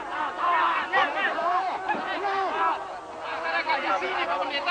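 Hundreds of angry Muslim residents surround a Christian Mass, their dense crowd of raised voices and shouting forming a continuous loud babble with no single voice standing out.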